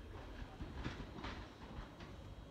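A London Overground train departs toward London Liverpool Street, with steady rumble and rhythmic clickety-clack of wheels over rail joints, moderately close and continuous without speech.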